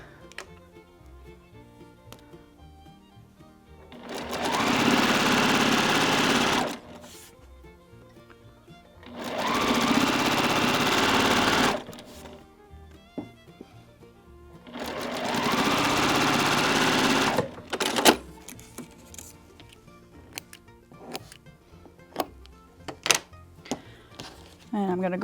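A sewing machine stitches quilt block pieces in three sustained bursts of rapid whirring, each lasting a couple of seconds, with quiet handling clicks and taps between runs.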